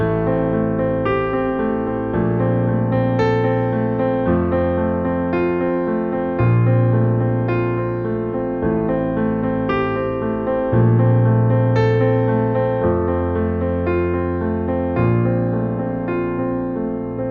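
Solo piano plays the main riff of a song, sustained chords shifting every couple of seconds with a gentle melody on top, clear and close.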